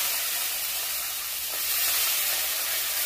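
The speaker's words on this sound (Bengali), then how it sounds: "তো আমি এখানে বেগুনগুলোকে তেলে নেড়ে নেবো।" Eggplant being stirred in hot oil in a wok sizzles with a steady, bright, close hiss that rises slightly partway through.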